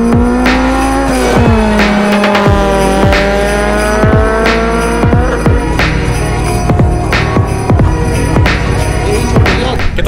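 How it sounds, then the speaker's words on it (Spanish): Fast cars at a drag racing event on a racetrack in Tacna rev and roar loudly, with rising and falling engine pitch, sharp tire squeals and repeated bursts of acceleration close by, with no talking. "hoy nos toca un evento de piques aquí en el autódromo"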